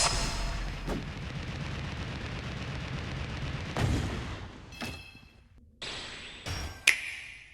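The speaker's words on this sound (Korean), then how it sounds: "그러고 상처 폭발 난사해주면" Repeated wound explosion skill bursts in a video game boss fight, booming impacts layered over dense battle noise with sharp blasts near the end, loud and continuous.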